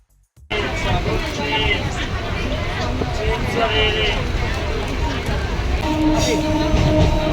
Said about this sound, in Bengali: জাস্ট আমরা ট্রেনে উঠলাম